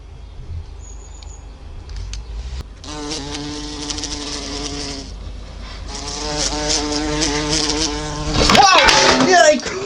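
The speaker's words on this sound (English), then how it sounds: "That is a big bumblebee. It's loud." A large bumblebee buzzes loudly and close by in a steady drone that swells and grows louder toward the end, with a few brief breaks between stretches of buzzing.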